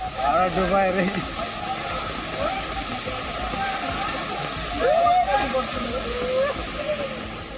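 Rushing floodwater on a flooded rain-fed stream in Bijapur during heavy rain, sweeping away a truck loaded with rice. A continuous loud roar of churning water sounds throughout, with a voice speaking over it.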